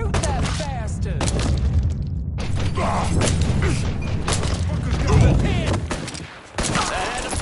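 Gunfire in the video game Mafia 3, dense bursts of shots and booms spread across a busy combat mix with a voice talking over parts of it.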